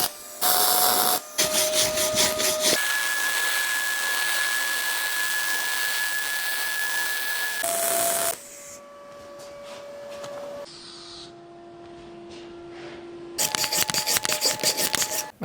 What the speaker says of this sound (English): So we're gonna cut it out and weld it again.